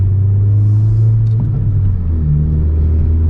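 A 2020 Honda Civic Si engine running on its factory tune, a loud, steady low rumble heard from inside the car, with a slight shift in tone midway and no talking.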